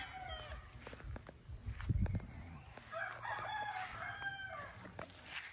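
A five-month-old Sweater x Boston Roundhead gamefowl rooster crows at moderate distance on a farm, other fowl clucking and faint rustles around it, low in level.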